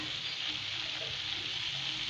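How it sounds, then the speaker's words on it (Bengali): Cabbage bhaji frying in a pan while being stirred, giving a steady, close hiss and sizzle that holds evenly throughout with no talking. "এই যে নেড়ে দিচ্ছে, এখন নেড়ে দেওয়া হচ্ছে"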